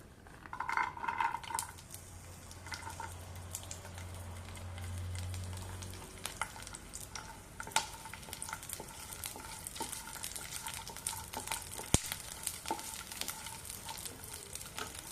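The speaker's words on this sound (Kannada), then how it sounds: "ಪ್ಯಾನ್ ಬಿಸಿ ಆಗಿದೆ ಸ್ವಲ್ಪ ಆಯಿಲ್ ಹಾಕೊಳ್ಳೋಣ ಇದಕ್ಕೂ ನಾನು ಕೊಬ್ಬರಿ ಎಣ್ಣೆನೇ ಬಳಸ್ತಾ ಇದ್ದೀನಿ ಬೆಳ್ಳುಳ್ಳಿ ಹಾಕೊಳ್ಳೋಣ" Garlic fries in hot coconut oil in a pan, giving a steady close sizzle with occasional scraping and stirring clatter, with no voices.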